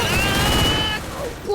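Gunfire bursts in the Free Fire mobile battle game, a quick loud volley of shots that cuts off abruptly and leaves a short fading tail.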